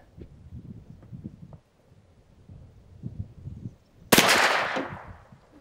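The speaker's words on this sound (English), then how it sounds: "let's go ahead and take that second shot" A single subsonic 6.5 Creedmoor round fired from a CMMG Mk3 DTR2 rifle outdoors lands as one sharp, loud crack with a fading tail, after several seconds of quiet rustling and handling noise.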